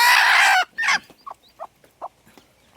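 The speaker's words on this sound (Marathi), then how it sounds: "कोंबडीला उचलूया हे बघा कोंबडी किती ॲग्रेशिव्ह तुम्ही बघू शकता" A desi country hen being lifted by hand, a loud flurry of agitated squawking at first, then a series of short, sharp clucks spaced about every half second, close to the microphone.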